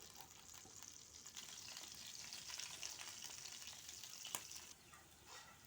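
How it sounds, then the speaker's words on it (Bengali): Cabbage pakoras frying in hot oil sizzle with a steady, close bubbling crackle, broken by one brief sharper pop near the end. "তো তেল গরম হয়ে গেছে। এখানে এক এক করে বাঁধাকপির পাকোড়াগুলা দিয়ে দিব।"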